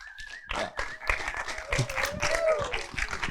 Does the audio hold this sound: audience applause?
yes